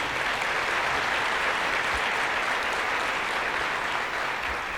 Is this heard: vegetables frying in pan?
no